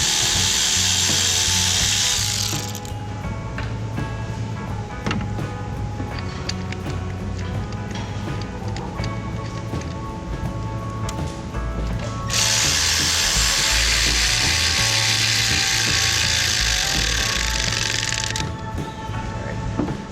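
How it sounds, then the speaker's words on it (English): Ratchet wrench turning a 10mm bolt on the fuel rail of a Dodge Challenger engine, with rapid, close clicking in long runs and a few brief pauses, no talking. "replace this 10mm bolt with one of the special bolts that we've provided"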